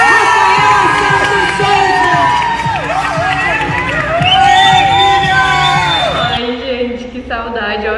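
A crowd at a beauty pageant winner announcement erupts in loud cheering, shrieks and whoops, sustained for several seconds before easing, with excited voices and shouting mixed in.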